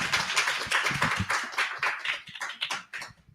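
Hands clap in a quick, steady patter close by, the applause thinning out toward the end, as a host opens a library author event.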